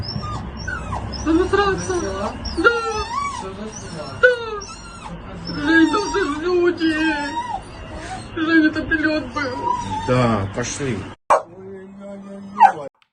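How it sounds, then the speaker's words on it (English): A dog whimpers and whines repeatedly in the background during a missile strike in Ukraine, its high wavering cries running under close, agitated talk, followed by a sharp burst near the end. "we can even hear that dog in the background whimpering"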